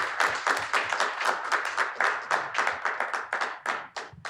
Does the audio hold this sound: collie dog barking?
no